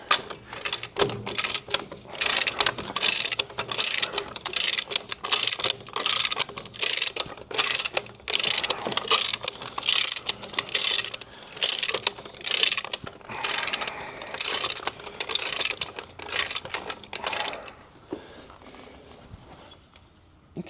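A Caterpillar 933 crawler's track is let down, a close, busy run of metallic ratcheting clicks and clanks in quick irregular bursts that slows and thins toward the end.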